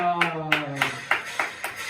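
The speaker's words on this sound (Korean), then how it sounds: "하나님께 영광의 박수 올려드리겠습니다" A congregation claps in steady rhythm during praise at a student worship service, about six sharp, evenly spaced claps close by over a sustained sung or spoken tone.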